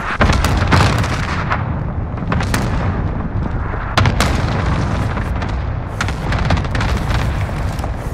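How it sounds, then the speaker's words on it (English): Cluster strike explosions in a battle royale video game, a dense continuous barrage of booming blasts and crackling detonations rolling for several seconds, with sharper impacts at intervals and no talk over it. "Cluster strike away."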